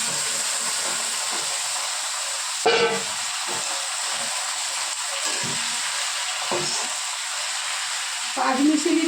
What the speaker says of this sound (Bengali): এই দেখো কালো জিরে ফোড়ন